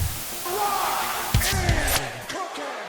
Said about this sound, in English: With the crowd in full effect